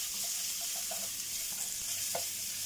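Ham frying in a pan at breakfast time, a steady close sizzle of hot fat with faint crackles and a few sharper pops, no talking.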